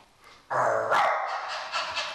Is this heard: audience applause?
no